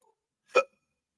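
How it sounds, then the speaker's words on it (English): A single short hiccup, close and fairly sharp, stands alone in an otherwise quiet room. "Now I got hiccups."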